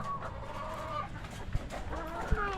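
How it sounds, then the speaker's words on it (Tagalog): Pet chickens cluck in a steady, overlapping run of short calls, close by, with a couple of sharper bursts standing out against constant farmyard background noise. "in-update ko muna kayo dito sa aking mga alagang manok"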